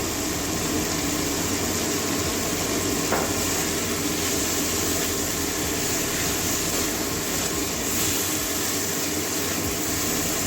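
Fish curry ingredients with salt frying in a pan for a Bengali kachki fish and potato-eggplant curry, a steady loud hissing sizzle that continues without a break and has no voices over it.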